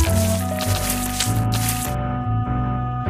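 Wet squishy scrubbing sounds come from a school bus being washed in a cartoon car wash in the Little Panda: School Bus game, as short soapy bursts over looping game music that then fall quiet.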